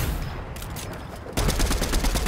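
Rapid bursts of gunfire crackle in a dense volley in Fortnite Battle Royale, growing louder and more continuous after a brief quieter stretch, sounding synthetic and game-like.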